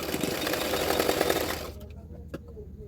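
Sewing machine running a line of stitches on a boat neck double katori blouse, a rapid buzzing chatter for about a second and a half that stops abruptly, followed by a few quiet clicks.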